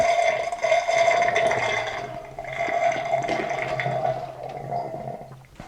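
Water pours and splashes steadily inside a freeze dryer chamber as it is rinsed out with clear water, a continuous close running-liquid sound with a faint tonal hum beneath.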